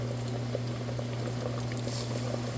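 Speckled trout pieces dipped in milk and egg fry in hot oil, a steady, close, continuous bubbling sizzle over a low hum.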